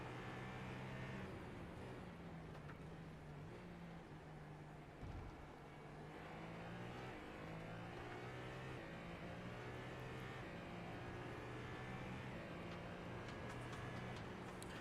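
GT3 race car engines at Daytona in iRacing, a continuous loud drone with shifting engine pitch as cars rev and jostle for position, with no pause throughout.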